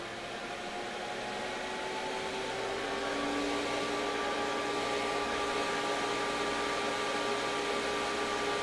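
An ATOM NEXUS AirBlaze Z4 HVAC register booster fan runs on a manual fan setting, giving a steady, close, broadband whoosh of moving air with a faint tonal hum that holds constant for several seconds, with no voices.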